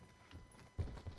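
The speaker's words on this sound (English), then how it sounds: "I hear footsteps" Footsteps in Call of Duty Blackout thud faintly nearby, a couple of soft dull impacts toward the end over a constant low ambient hiss.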